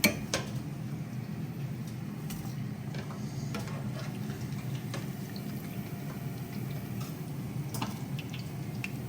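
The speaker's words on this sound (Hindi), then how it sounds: "यहाँ पे हमारी बॉल्स भी फ्राई हो रही हैं।" Potato chicken cheese balls fry in a pan, making a steady soft sizzle and bubbling hiss, with occasional faint clinks and ticks over the quiet, even frying.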